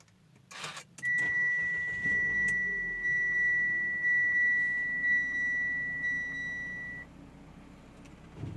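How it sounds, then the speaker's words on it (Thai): A Mitsubishi Xpander engine cranks and catches, then settles into a steady idle while a high, constant beep tone rings for several seconds before stopping. "สตาร์ทเครื่องยนต์กันนะครับ"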